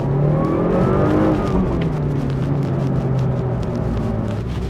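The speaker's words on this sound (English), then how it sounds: "I love the noise this car makes as well." A Mitsubishi Lancer Evolution 5 RS engine under way, a loud close drone holding steady with a slight rise in pitch that then eases and falls, with no talk.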